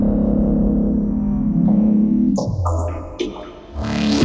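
Filtered saw-wave synth tones pushed through Lumen Harmonic Sculptor waveshaping distortion, loud and rubbery with resonant sweeps, then broken into short bursty notes near the end.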